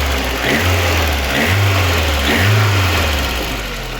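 A LADA Kalina engine with standard 1.6 injectors idles loud and close after a valve clearance adjustment, with a steady low hum and a gentle periodic pulsing roughly once a second.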